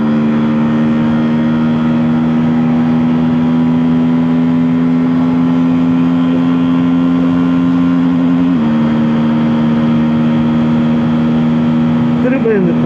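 Keeway Benda V302C V-twin motorcycle engine held at a steady high idle-like drone, then dipping and surging as the throttle is opened near the end, recorded close and loud throughout.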